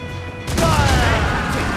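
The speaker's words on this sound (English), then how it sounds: "They're firing mortars!" Mortars and cannons firing in a naval battle in Assassin's Creed Rogue, a loud burst of booming blasts that swells into a dense sustained roar of gunfire and crashing.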